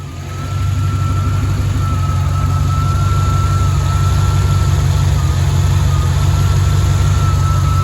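A 1993 Chevrolet Corvette C4 engine cranks and fires within the first half second, then settles into a loud, steady low rumbling idle close by, with a faint whine above it.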